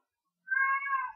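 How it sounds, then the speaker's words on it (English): A house cat lets out a single clear, drawn-out meow lasting under a second, close by in an otherwise quiet room. "That's my cat."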